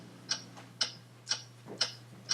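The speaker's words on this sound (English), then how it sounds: "What is that mysterious ticking noise?" A mysterious ticking noise, sharp clock-like ticks at an even half-second pace, five or six clicks standing out clearly over a low steady hum, no speech.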